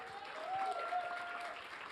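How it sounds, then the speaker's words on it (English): Audience applause at a comic convention stage event, a steady wash of clapping filling the whole moment at moderate loudness, with a faint tone or voice briefly riding over it. "Big round of applause for my buddy here."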